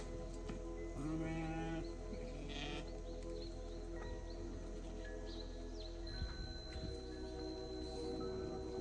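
Sheep bleating near a campsite in the Western Cape's Tankwa region, several calls over a steady outdoor background with occasional bird chirps, moderately distant.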